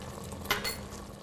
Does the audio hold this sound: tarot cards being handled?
no